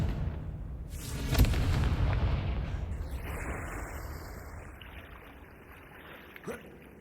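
A Confringo blasting curse in Hogwarts Legacy goes off as one loud booming explosion, then a long rumbling decay and a softer second thump near the end.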